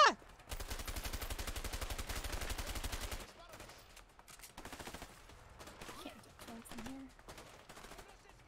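Rapid gunfire from the prison-break video game A Way Out, a dense burst of repeated shots lasting about three seconds, followed by quieter game sounds and scattered talk.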